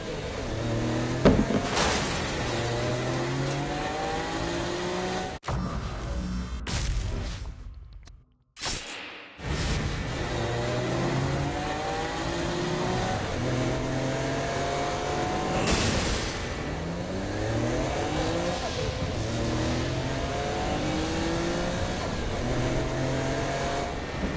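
Car engine in the Saints Row Gat out of Hell game, droning and revving with repeated rising gear pitches, close and steady over a long stretch with a brief dropout midway.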